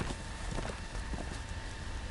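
Horse hooves clip-clop at a steady gallop in a fantasy video game, a continuous rhythmic patter of quick beats under a constant mix of game ambience.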